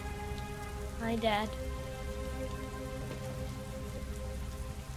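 Steady heavy rain falls throughout a scene in the video game Heavy Rain, a constant dense patter beneath game music and a brief spoken greeting.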